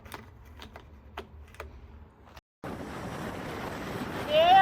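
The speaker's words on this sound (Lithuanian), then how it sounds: "Vėjas tai eik tu mačiut. Ir pučia visiškai nuo oro uosto į mūsų pusę." Strong wind blows off the airport toward the house at a new home, heard in the second half as a loud, rushing roar buffeting the microphone after some quieter ticking sounds.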